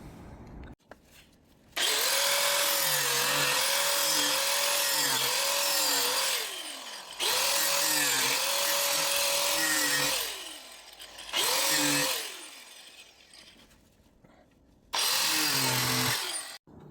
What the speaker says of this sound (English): So now all I have to do is kind of cut each of these fins.